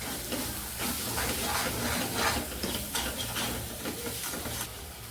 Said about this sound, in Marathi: आता हे आपण छान तेलामध्ये परतून घेऊयात।